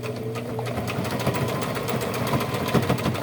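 A sewing machine hems jeans, its needle running in a steady, fast mechanical chatter close by, loud and continuous with no talking.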